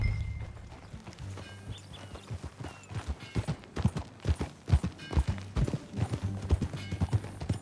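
A horse's hooves clip-clop at a steady walking pace in the video game Red Dead Redemption II, close and fairly loud, the rhythmic knocks growing firmer as it moves along.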